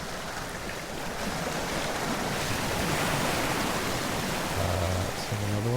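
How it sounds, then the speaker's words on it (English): Ocean roar field recording played from the Lunaris synth: broad, constant surf-like noise that swells slightly, with a few low synth tones entering near the end. "Ocean Roar."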